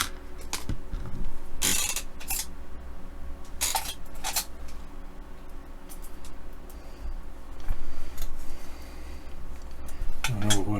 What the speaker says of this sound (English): we can now screw this together